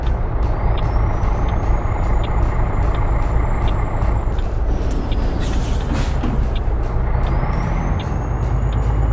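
A loud, continuous Freightliner FLB truck engine roar with the rapid repetitive clatter of the engine brake over it, plus faint steady beeping, in American Truck Simulator.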